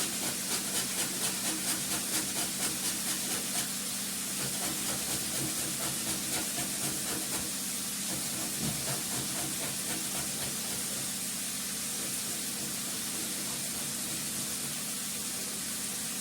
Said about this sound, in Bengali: শুকনো লঙ্কা ফোড়নের উপর দিয়ে দেওয়া।